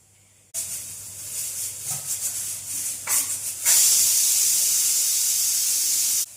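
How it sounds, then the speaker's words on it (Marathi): A kitchen pressure cooker steaming idli gives off a steady, close hiss that swells louder partway through and holds until it cuts off, with no voices. "इडली पण लावून घेतलेली आहेत कुकरला"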